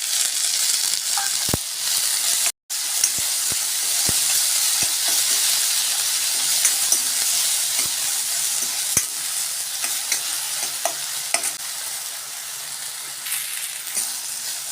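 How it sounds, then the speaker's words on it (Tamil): Turkey berries sauté in hot oil with curry leaves, giving a steady close sizzle with scattered spoon stirs and clinks. A brief cut breaks it near the start, and the frying continues alone without talk. "சுண்டக்காய் சேர்த்து நல்லா வதக்கி விடலாங்க"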